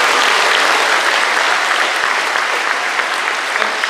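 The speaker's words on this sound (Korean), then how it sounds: "이분들을 위해서 박수 한번 쳐주시기 바랍니다." A large audience claps for six American guests from Seattle at a Korean-American gathering. The applause is dense, loud and steady and fills the whole stretch without a break.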